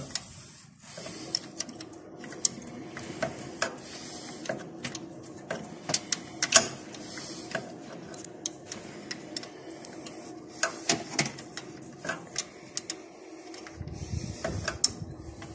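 The diesel fuel hand pump on a Massey Ferguson 175 tractor is worked by hand, giving irregular close mechanical clicks and ticks over a low background hum.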